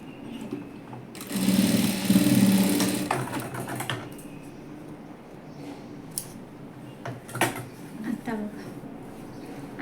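A sewing machine runs in a loud, fast whirring burst while stitching palazzo pants along an elastic waistband, then falls to quieter handling sounds with a few short clicks and brief speech.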